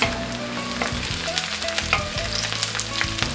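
Garlic and onions sauté for a seafood Bicol Express, with a loud, close, continuous sizzle and spatter as a spatula keeps stirring and scraping the pan. No one speaks.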